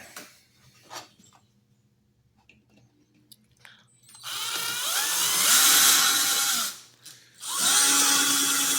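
A power drill bores into hardwood in two sustained bursts of whirring, grinding noise, with a short pause between them, following quieter handling clicks and rustles near the start.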